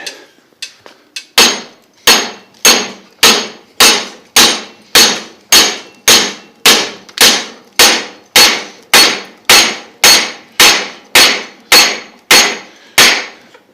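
A hammer strikes hot metal on an anvil while a blacksmith forges a square upset corner: about twenty loud, ringing blows in a steady, even rhythm, each decaying before the next, after a few lighter taps.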